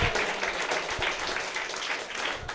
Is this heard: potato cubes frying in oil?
no